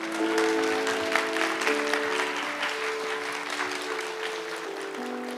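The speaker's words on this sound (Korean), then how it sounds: "큰 박수 부탁드립니다" Sustained applause from a church youth service congregation fills the room, a dense steady patter of many hands clapping, moderately loud and continuing throughout while background music tones hold underneath.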